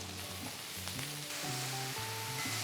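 Chopped onion and sliced button mushrooms frying in a pan, a soft, even sizzle with a few faint stirring taps, quiet and steady with no talking.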